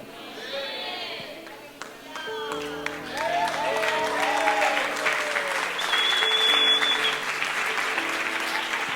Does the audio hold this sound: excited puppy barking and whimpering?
no